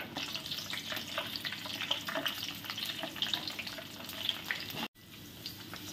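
Raisins fry in hot oil with a faint, busy crackle and sputter that runs steadily, cutting off abruptly near the end.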